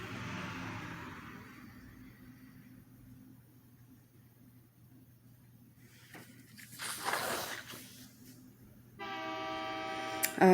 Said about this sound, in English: Of course the train would come through when I'm recording a video.